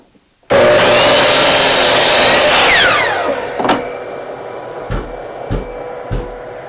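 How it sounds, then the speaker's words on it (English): A loud shop vacuum serving a miter saw station roars steadily, then settles into a lower hum broken by several sharp, regular pulsing thumps from its filter cleaning. "That pulsating sound that you're hearing is the auto cleaning of the vacuum"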